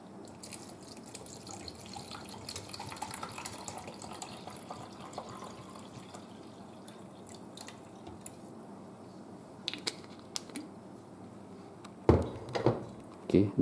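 A liquid mixture of garlic, ginger, lemon and apple cider vinegar pours into a pot with a faint, steady trickling and dripping, ending in a few louder splashes and clunks.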